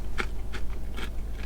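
Crunchy bagged tostones are bitten and chewed close to the mic, giving three or four sharp, dry crunches over a faint low hum.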